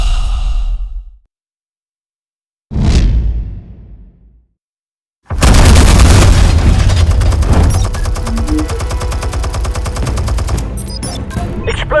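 Explosives detonating in Batman: The Telltale Series: a short whoosh-like burst, then a loud, sustained barrage of rapid blasts and crackling debris that runs to the end, with no talk.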